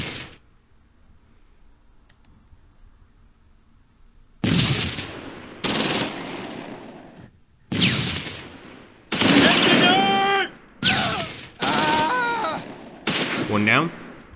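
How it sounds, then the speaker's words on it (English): Gunfire exchange in a war video game as a vehicle crew and infantry return fire: several loud, close bursts of automatic fire in quick succession, with brief gaps between them and what sounds like shouting mixed into the later bursts. "Let's see if the vehicle crew can return fire."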